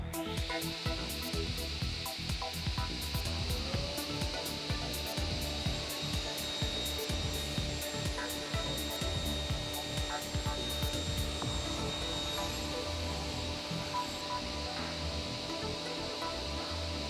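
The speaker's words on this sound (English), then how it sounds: "The glue we used on the seat has now hardened and can be cut to size." A Hammer C3 31 combination woodworking machine cuts a glued wooden seat to size, giving a steady, loud machine whine with a continuous rasping bite of the blade through wood, close up and sustained throughout.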